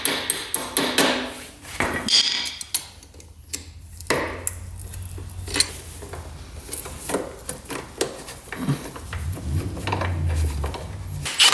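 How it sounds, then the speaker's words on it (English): Sharp metallic hammer taps pound a cotter pin down on a rare 2-stroke triple motorcycle, a quick irregular series of close blows over light workshop noise. "And then the cotter pin goes in. Get that pounded down."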